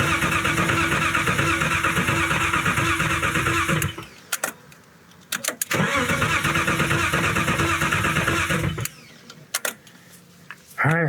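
A boosted BMW E36 engine cranks over on the starter without firing while it builds oil pressure, with the fuel pump fuse disconnected. Two loud, steady cranking runs of about four seconds each are separated by a short pause.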